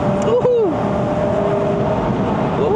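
Subaru Legacy 3.0R Spec.B six-cylinder engine driving up the Genting road in Malaysia: a steady, close engine drone runs underneath heavy rushing wind noise throughout, with a brief rising pitch sweep early on.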